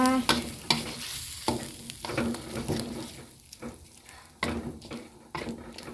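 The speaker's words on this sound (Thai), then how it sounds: "พริกลงมาผัดค่ะ" Chili paste is stir-fried in a pan for a Thai pork panang curry with pea eggplants, sizzling loudly and close while a spatula scrapes and clatters against the pan in irregular bursts; no one speaks.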